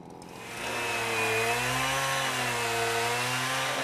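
A chainsaw cuts deep into a wooden block being shaped for a wooden fountain, its engine rising to a loud, steady whine after a brief start and holding near and continuous with no talk.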